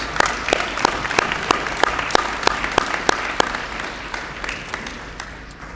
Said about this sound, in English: Please join me in a round of applause to congratulate our Year 8 academic award winners.